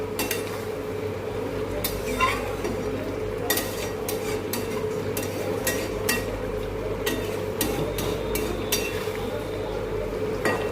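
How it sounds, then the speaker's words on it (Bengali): A spoon stirs patol posto, pointed gourd in poppy seed paste, in a pan. Repeated scraping and clinking strokes sit over a steady low hum throughout. "নাড়াচাড়া করে নামিয়ে নেবো"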